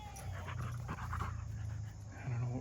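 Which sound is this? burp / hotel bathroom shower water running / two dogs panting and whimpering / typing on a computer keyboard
two dogs panting and whimpering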